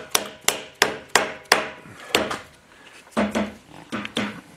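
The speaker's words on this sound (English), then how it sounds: "I'll just get started with a little rubber mallet" A small rubber mallet taps repeatedly on a Willys transfer case output shaft bushing, with about a dozen sharp, close knocks, evenly spaced at first, then more irregular and in quick pairs.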